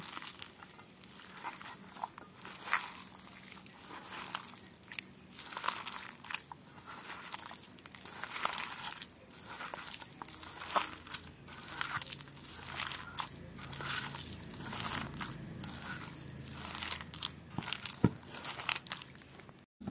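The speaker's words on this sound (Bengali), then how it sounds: "এবার এই ডিমটাকে আমি চটকিয়ে মাখিয়ে নেব।" Fish roe mashed and mixed by hand with gram flour, moist squelching and crunchy squishing in a rapid, uneven rhythm, close up and continuing throughout without speech.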